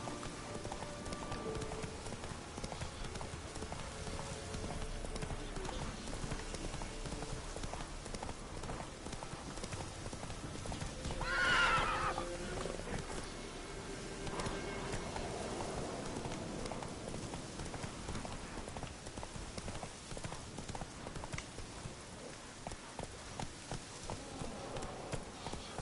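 Horse hooves clop along at a steady pace in The Witcher, faint and fairly distant within a muted outdoor ambience, without voices.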